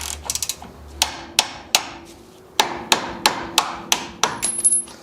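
Ratchet with an 11/16 socket working loose a strut rod bolt under a 1967 Chevy Impala, a run of sharp metallic clicks in short bursts with pauses between, close and clear.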